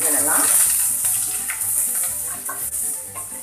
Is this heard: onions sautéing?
yes